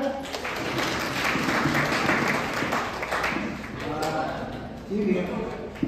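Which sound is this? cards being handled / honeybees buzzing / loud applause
loud applause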